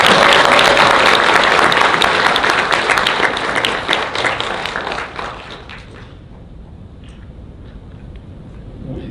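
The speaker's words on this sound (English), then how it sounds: "We can all applaud that." At a conservative political speech, a large audience applauds loudly in a dense burst of clapping that tapers off after about five seconds, leaving a quieter room with faint scattered claps.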